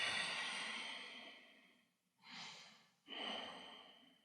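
Slow, deep breathing during a yoga pose: a long exhale, then a shorter inhale and another breath, close and quiet with pauses between.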